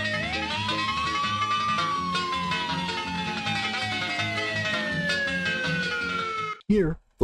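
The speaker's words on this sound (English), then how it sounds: "The Lexus takes off with the police car in hot pursuit." A police car siren wails continuously with a slow rising and falling sweep during a pursuit of a fleeing Lexus, loud and close under background music, cutting off abruptly near the end.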